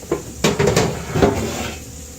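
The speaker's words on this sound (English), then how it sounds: "I am going to pull out my baking pan" A metal baking pan is pulled out of a kitchen cupboard, giving a few quick clanks and scrapes plus a dull thud, all close by and over within about two seconds.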